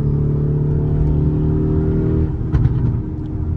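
A 2024 Lamborghini Urus twin-turbo SUV fitted with an aftermarket exhaust, its engine revving: a steady, loud, deep rumble from inside the cabin, followed by a brief sharper surge near the end.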